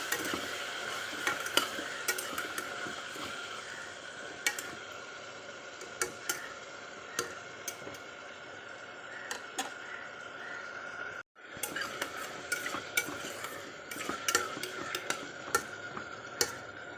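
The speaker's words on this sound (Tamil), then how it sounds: "தக்காளி போட்டு நல்லா வணக்கி விட்டுடலாம்" Tomatoes sautéing in a pan while being stirred, a quiet sizzle broken by scattered ticks and scrapes of a spoon, with a brief pause midway.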